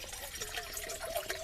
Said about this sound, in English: I'm gonna take my cup here, put my water in it